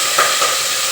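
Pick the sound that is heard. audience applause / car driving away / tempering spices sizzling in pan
tempering spices sizzling in pan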